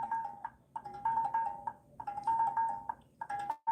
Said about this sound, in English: What you're hearing right now is Ogene.